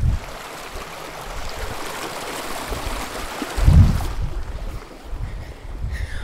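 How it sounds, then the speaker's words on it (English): Steady broadband rush of a stream at a water crossing on a hiking trail, running continuously and fairly close, with a brief low thump partway through and the flow thinning slightly toward the end. "hey, look, more water crossing."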